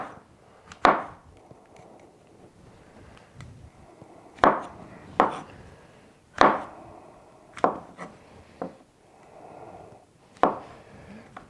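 A knife cuts through steak on a board, making about eight or nine separate chopping thuds at irregular intervals. The cuts are close, fairly loud and clear, with a soft scraping sound between them and no voice.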